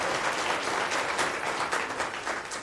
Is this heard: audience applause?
yes